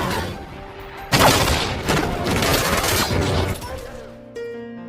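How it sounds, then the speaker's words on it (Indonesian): Gunfire in an action film scene about a mafia boss and a robbery, a sudden loud burst of rapid shots and booms lasting a few seconds, followed by a quieter musical tone. "tiba-tiba ada seseorang yang melakukan penembakan ke arah mereka."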